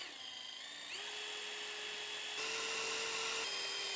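Power drill driving self-tapping screws on a John Deere JD140 tractor, a high whine stepping up in pitch as the motor spins, short and close with no talk.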